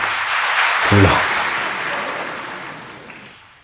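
An evening satsang audience in Ahmedabad breaks into sustained clapping that swells near the start and then gradually fades.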